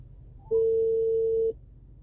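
Phone call tone through the Android multimedia unit of a 2023-25 Honda HR-V, one steady pure beep about a second long, loud and clean against faint cabin hum.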